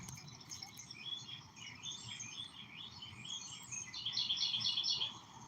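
Birds chirp outdoors in a steady run of high, rapid tweets that swell louder near the end, set against soft insect-like background noise.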